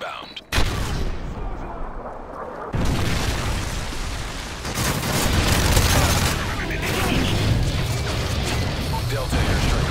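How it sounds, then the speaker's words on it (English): A Predator missile strike in Modern Warfare 3 combat: a sudden loud impact and heavy explosion, then sustained rumbling blasts and gunfire mixed with voices throughout. "Friendly predator missile inbound."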